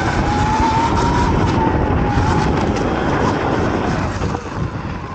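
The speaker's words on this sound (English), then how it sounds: "My back wheel sliding completely on the right." A Sur Ron Light Bee electric motorbike, ridden two-up on a mountain trail in Portugal, slides its rear wheel sideways; a steady loud roar of tyre scrub on dirt and wind fills the whole stretch, with a faint motor whine and no voices.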